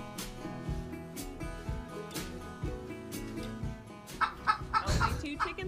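Video-game chickens keep clucking steadily within a loud, dense mix of music-like tones, and the sound grows busier and louder toward the end.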